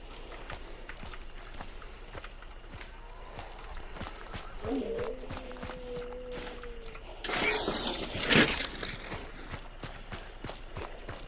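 Rapid, regular hoofbeats of a video game horse galloping patter throughout at moderate volume, with a brief tonal call midway and a burst of rushing noise later.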